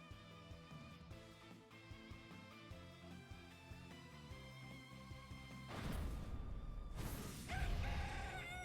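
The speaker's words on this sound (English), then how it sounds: "Cock-a-doodle-doo." A rooster crows as a sound effect in a digital card game, mixed with game music and followed by loud crashing bursts.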